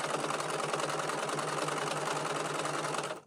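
A sewing machine stitches a satin scrunchie in a fast, steady mechanical whir with a fine repetitive pulse that runs evenly for a few seconds, then stops.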